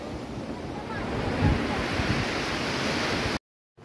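Sea waves on Tarkarli beach in Konkan roll in as a continuous broad wash of surf mixed with wind noise on the microphone, steady and close, ending abruptly in silence.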